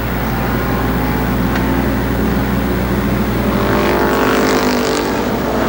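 A race car engine at Columbus Motor Speedway roars in a steady, loud, broadband drone with no break, the pitch rising slightly near the end as the car accelerates past.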